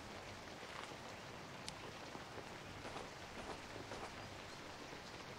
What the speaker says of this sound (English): the rain in the game and I look over to the window and it's like raining the same way